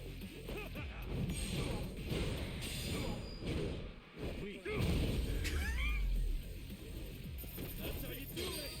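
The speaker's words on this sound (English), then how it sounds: "headbutt barrage" Heavy thuds and crashing hits from a headbutt barrage in the video game Yakuza: Like A Dragon, a rapid series of impacts with deep booming blows, mixed under excited talking.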